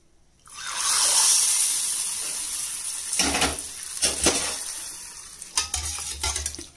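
Hot coconut oil tempering poured into lemongrass rasam, a loud burst of sizzling that slowly fades, followed by a few clanks and stirring scrapes of a utensil in the pot.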